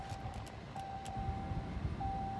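A car sounds its alert chime after being left running without its key fob inside. A steady high-pitched warning tone persists faintly over a low vehicle rumble.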